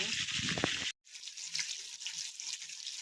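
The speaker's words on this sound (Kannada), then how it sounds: "ಪಕ್ಕದಲ್ಲಿ ಪ್ಯಾನ್ ಇಟ್ಕೊಂಡು ನಾವು ಕಟ್ ಮಾಡ್ಕೊಂಡಿರೋಂತಹ ಮಸಾಲೆನೆಲ್ಲ ಹುರ್ಕೊಳ್ಳೋಣ" Chopped masala spices fry in a pan of oil for tomato curry, a steady close sizzle with brief stirring clatter, cut by a momentary dropout before the hiss resumes.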